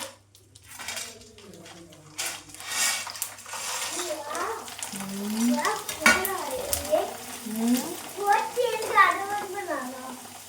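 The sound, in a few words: papad frying in oil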